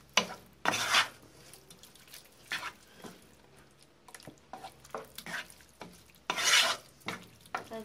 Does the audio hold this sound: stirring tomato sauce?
yes